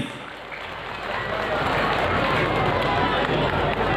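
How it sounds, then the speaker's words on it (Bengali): Audience at the 13th Haripal fair on Gurudayal ground clapping to welcome a guest, a steady, dense wash of applause from a crowd that swells after the first second and holds loud to the end. "আপনারা করতালি সহযোগে প্লিজ"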